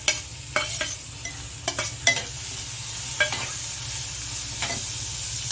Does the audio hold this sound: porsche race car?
no